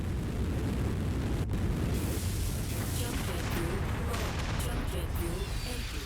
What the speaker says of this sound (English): hopefully they don't take damage from the artillery that's aimed at me